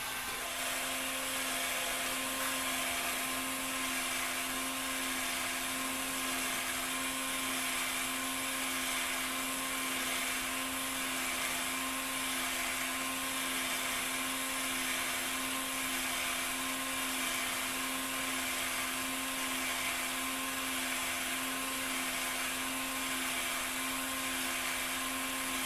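A small motor slowly spins a vintage fishing rod while its fresh coat of finish dries, giving a steady, unbroken mechanical whine and hum that lasts the whole stretch with no speech.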